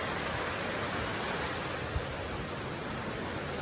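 Can Umantad Falls in Bohol pours in a constant broad hiss of falling water, steady and enveloping with no change over a few seconds.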